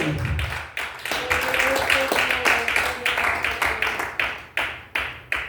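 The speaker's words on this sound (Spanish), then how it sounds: "denle un aplauso al Señor" A church congregation claps together in a steady rhythm, sharp unison claps repeating at a regular beat while a faint sustained tone hums underneath.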